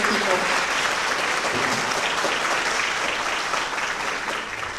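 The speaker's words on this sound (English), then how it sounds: "give them all a hand round of applause for all these amazing people" Audience at a Harlingen High School choir fall concert applauds HHS staff, a full steady wave of clapping throughout that tapers slightly at the end.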